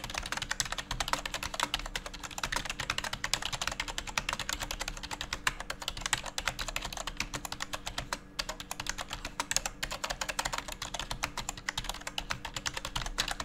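Rapid, steady typing on an NYK Nemesis Drake KC-300 membrane gaming keyboard, dense soft key clicks continuing without pause, close and fairly quiet.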